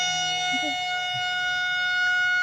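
A civil defense siren sounds a long steady wail in Rawalakot at 9 a.m. for a minute of silence on Pakistan's Independence Day, holding an unbroken continuous tone.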